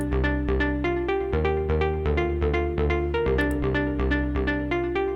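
Synthesizer with filter and effects switched on plays a steady, repeating pattern of bright plucked notes over a low sustained bass, continuous and close with no voices.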